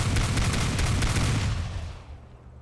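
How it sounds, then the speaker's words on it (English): Shotgun blasts from a video game fire in quick succession, loud booming bursts that run together and then fade away over the final second. "I can shotgun jump"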